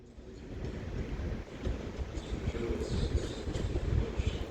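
A Northern Class 331 train departs Manchester Piccadilly for Alderley Edge with a steady low rumble and rolling clatter that gradually builds, a faint whine rising above, with wind noise on the microphone.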